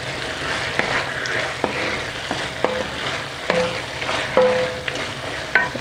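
Carrots and green beans frying in a pan on a quiet hob, with a soft steady sizzle under repeated clicks and scrapes from a spoon stirring the vegetables, close and wordless.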